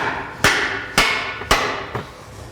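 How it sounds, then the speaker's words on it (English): Hammer blows on a stuck control arm bolt head on a 2012 Subaru Forester, four sharp metallic taps spaced about half a second apart, close and loud, the last one slightly softer, with no talking. "Grab two hammers or something sharp and just put on the head of the bolt on this side,"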